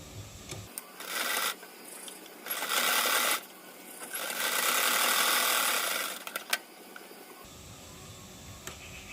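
A sewing machine stitches a blouse in three close bursts of rapid, buzzing needle action separated by short pauses, the last run longest, with a few sharp clicks as it stops.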